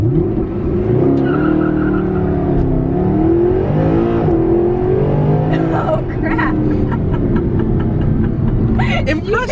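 A Mercedes-Benz SLS AMG accelerating hard, its engine roaring loud and close with rising harmonic sweeps, tires squealing briefly near the end while a man exclaims over it.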